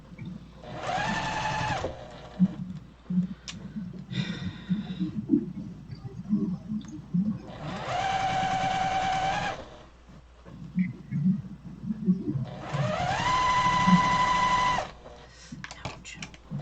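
A sewing machine stitches a seam in three bursts of steady whirring, each about two seconds long, with quieter handling noises and fabric shuffling in the pauses between them.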